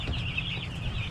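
Chicks peep continuously in a coop during a feeding and water top-up, their high chirps forming a steady close chorus with no talking.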